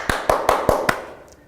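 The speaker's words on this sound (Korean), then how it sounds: "지금 저랑 같이 박수를 한번 칩시다" A lecturer in a classroom claps his hands five times in a steady, even rhythm, each clap sharp and close, followed by a brief fading echo.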